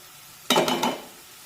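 Onion with ginger garlic paste is sautéed for pav bhaji, a single close burst of spoon scraping and stirring against the pan lasting about half a second, with no talking.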